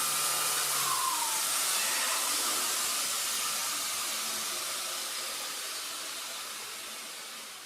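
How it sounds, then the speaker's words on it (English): Belt sander truing the edges of tack-welded steel braces, a steady bright high-pitched hiss with a brief grinding whine early on, slowly easing off toward the end. "Now I trued up the edges of the braces on the belt sander."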